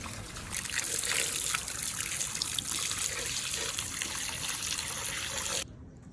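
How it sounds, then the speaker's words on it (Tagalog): Steady running water splashes and trickles for several seconds, close and fairly loud, as meat is rinsed under a tap, then cuts off. "At hugasan ng mabuti ang karne."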